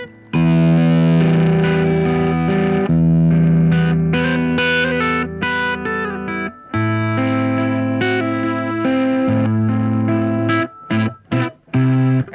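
Distorted electric guitar riff, loud and continuous, with chugging low chords and brief pauses near the end; no voices.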